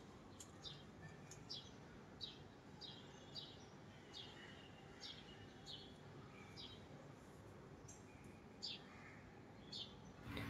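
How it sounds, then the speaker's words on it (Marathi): Birds chirp outdoors in a very quiet early morning, a scattering of short, high tweets repeating irregularly, faint and distant over a soft background hush. "हा जो काही बॅकग्राऊंडला पक्ष्यांचा आवाज येतो आहे"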